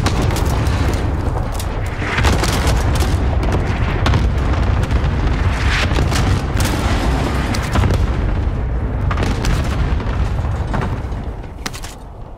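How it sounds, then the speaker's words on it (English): Cluster strike explosions in a video game boom in dense overlapping bursts, loud and continuous rumbling blasts that tail off toward the end, with no talk. "Cluster strike away."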